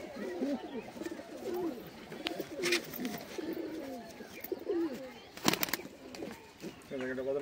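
Kasuri pigeons in a loft give soft, repeated cooing close by, with rustling and occasional sharp knocks, and someone talks intermittently over them.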